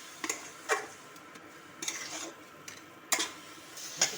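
Semolina roasting in ghee for coconut milk barfi, stirred with a spoon that gives sharp, irregular scrapes and taps against the pan every second or so, close and fairly quiet, no talking.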